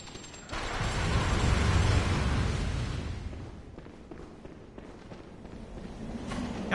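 Gunfire in a video game run: a dense, rumbling burst of shots swells and then fades into a rattling tail, fairly loud, with no voices.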